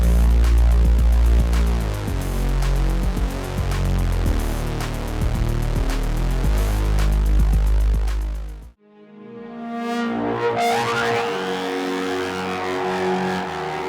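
Two FL Studio synths play chords: first a dense, buzzing, pulsing wall with heavy low end, then a short drop to near silence, then a brighter pad with sweeping, rising tones.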